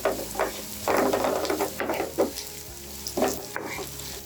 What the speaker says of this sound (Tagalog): Next, put ginger, then carrots, then stir.